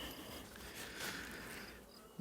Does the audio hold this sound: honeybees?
yes